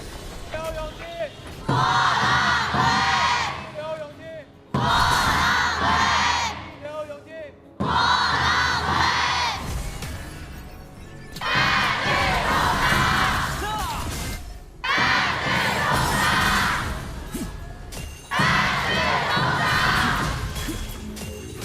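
Esports fans roaring at the KPL Grand Finals knockout stage, repeated chanted cheers from a huge arena crowd in loud bursts separated by short pauses, voices merging into a rhythmic collective shout.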